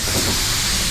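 A paint spray gun set to 27 psi with a 1.3 tip lays down a base coat in an automotive refinish booth, giving one second of steady, close, unbroken airy hiss.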